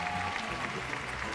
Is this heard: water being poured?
no